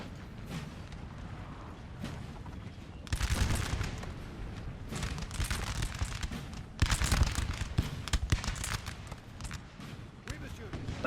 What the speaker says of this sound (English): Ooh, artillery's trying to fire.